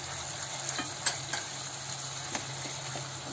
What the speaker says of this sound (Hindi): मसाला को अच्छी तरह से भून लेंगे